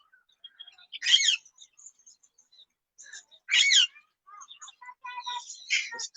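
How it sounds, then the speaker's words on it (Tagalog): Various birds calling at Riyadh Zoo in Saudi Arabia, parrots among them: a few loud harsh squawks spaced apart, with scattered thin chirps and tweets between them, otherwise quiet. "Iba't ibang uri ng ibon."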